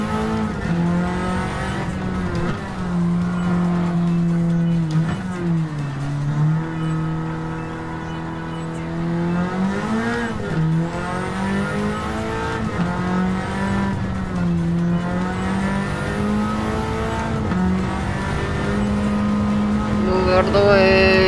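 Race car in Gran Turismo 7 drifting around a track, engine droning steadily at high revs with continuous tire squeal, pitch dipping and rising as the car slides through corners, loud and sustained throughout.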